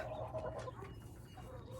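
Chickens clucking softly at close range beside a garden greenhouse, a few short overlapping calls over a low background murmur.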